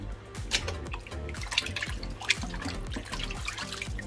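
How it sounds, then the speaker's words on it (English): Running water rinsing vinegar off pork while making Jamaican jerk pork, a continuous close splashing and trickling with small drips and sloshes in a kitchen. "this is the final wash. Just to get the vinegar off the pork."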